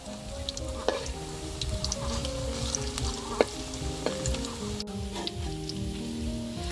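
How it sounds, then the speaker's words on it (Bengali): Steady, close crackling sizzle of lentil fritters frying in hot oil, with occasional sharper pops and spatters over a continuous bubbling hiss. "আমার বড়া অর্ধেক ভাজা হয়ে গেছে"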